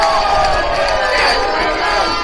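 A football crowd roars loudly and steadily as the scores are levelled in an English Cup semi-final between Christchurch United and Nomads United, a dense sustained cheer of many voices.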